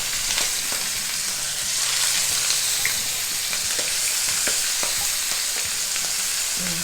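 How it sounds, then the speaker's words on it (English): Chicken sizzles and crackles steadily in a hot pan, a constant bright frying hiss with small pops, close up and without voices. "You hear that sizzle? That's what we want."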